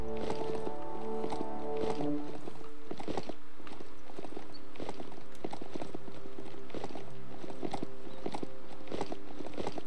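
Hoofsteps of a red-eyed goat mount in the video game BioMutant, a steady, loud clip-clop rhythm of repeated hooves striking ground throughout, with no talk.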